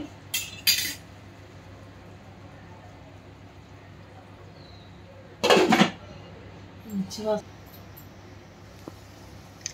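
A metal lid clanks onto a cooking pot holding ponnaganti greens with moong dal, heard as a few sharp clinks with a louder clatter in the middle, over quiet kitchen background.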